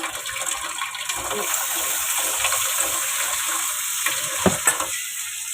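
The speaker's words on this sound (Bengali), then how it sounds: "অল্প পরিমাণে জল দিয়েছি।" A small amount of water goes into a pan of katla fish curry, giving a continuous hissing sizzle and bubbling up close, with a few louder splashy bursts near the end.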